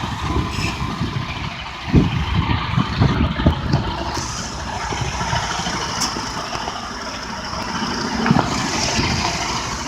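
Semi truck tractor reversing slowly during a parallel parking manoeuvre, its diesel engine rumbling at a steady low idle, close and continuous, with a few brief thumps and no talk.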